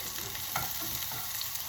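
Onions go into a pan with garlic and radish that have already been sautéed, and they fry with a loud, dense sizzle while a spoon scrapes and stirs in short rough strokes close by.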